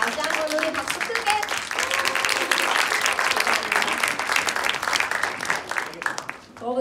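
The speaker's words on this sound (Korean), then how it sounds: "다시 한번 우리 박수 크게." An audience at a book-launch author talk bursts into loud, sustained clapping that runs for several seconds, with scattered voices and cheers mixed into the crowd noise.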